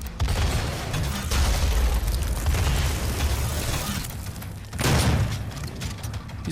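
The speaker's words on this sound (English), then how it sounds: "Better get that rocket launcher out." Loud, continuous DOOM combat with a rocket launcher firing, dense booming blasts and explosions filling the whole stretch, with a sharp burst near the end standing out above the sustained roar.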